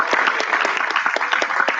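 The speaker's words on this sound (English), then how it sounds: "Let's give our debaters another round of applause" An audience at a university debate final applauds the debaters, a dense burst of many hands clapping fairly loudly and steadily for a couple of seconds, with no voices over it.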